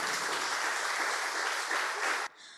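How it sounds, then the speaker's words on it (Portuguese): A church congregation applauds loudly and steadily for about two seconds, a dense close wash of clapping that cuts off abruptly into a quieter room tone. "Vamos aplaudir ao Senhor, amém, queridos?"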